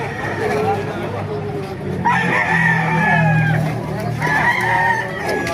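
Roosters crow twice over clucking chickens and a busy crowd chattering nearby at a chicken market in Baliuag, Bulacan, Philippines.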